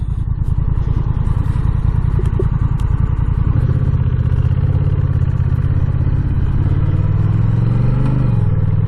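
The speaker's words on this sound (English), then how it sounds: "And it's downshifting nicely for the stop here." A 2021 Honda Rebel 1100 DCT motorcycle downshifting as it slows for a stop, its close, loud engine throbbing in a steady rhythm and then dropping in pitch through the gear changes.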